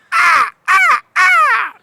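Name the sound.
crow cawing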